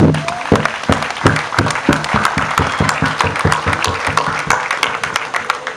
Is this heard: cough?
no